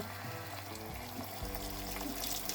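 Water poured from a glass into rice in a pot for homemade pilaf with meat, making a soft, quiet continuous pour and splash over a few seconds.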